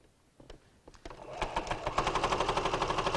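A sewing machine stitches quilt binding, starting with a few separate taps and then settling into a steady, fast run of rhythmic needle strokes, close and clear with no talking.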